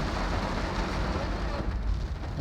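Heavy downpour drumming on a moving car during a driving lesson, a steady dense roar of rain on the roof and windshield with low road rumble underneath, continuous and loud, with no talking.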